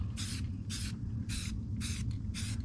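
Satin black coating hisses from a spray can onto Tesla Model Y wheels in five short, evenly spaced bursts, quiet and close, with a low background hum between them.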